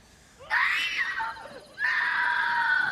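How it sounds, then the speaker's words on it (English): A girl screams in a District 12 scene from a Hunger Games film: two long, piercing, high cries close up, the first trailing off before a second sustained shriek. "goes to a girl screaming in District 12"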